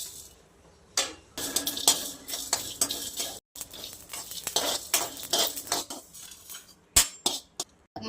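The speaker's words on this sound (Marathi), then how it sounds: "मी थोडासा मसाला आहे ना भाजून घेते मी आता जरा" Spices for a homemade paneer biryani masala dry-roast in a pan, with a steady sizzle and crackle under repeated metal scrapes and clinks of a spoon stirring them around, loud and close, with a brief break midway.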